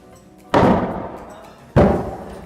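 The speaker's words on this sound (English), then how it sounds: "He just keeps ramming into the glass" A goat rams its horns against a pane of glass twice, each strike a loud, close thud with a rattling slam that rings and fades over about a second.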